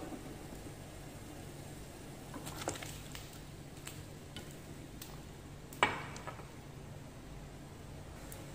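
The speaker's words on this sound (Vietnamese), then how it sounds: "Mình trụng thịt cho nó thơm." Pork ribs blanching in a pot of boiling water with white rice wine give a soft, steady bubbling and patter, faint and continuous, with a few light clinks near the end.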